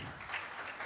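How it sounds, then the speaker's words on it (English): A hotel ballroom audience at a corporate event claps in a brief, soft burst of steady applause, heard at a distance. "A big round of applause for Ms. Janti Patis."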